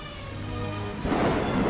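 Rain pouring during a road trip in Kumbakonam, a dense steady hiss of heavy rainfall that grows louder and rougher partway through, with no voices.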